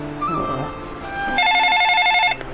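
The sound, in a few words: phone ringing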